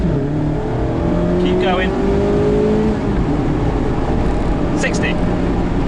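A Mazda MX-5 RF accelerates hard on an open road, its engine note rising steadily through the gears, loud and close from inside the car, while a voice speaks briefly over it.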